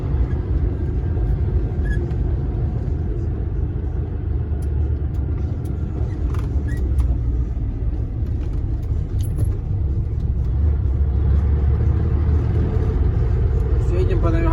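A DAF dump truck drives along a rough forest road, its engine and body making a loud, constant low rumble heard from inside the cab, with a voice speaking faintly beneath it.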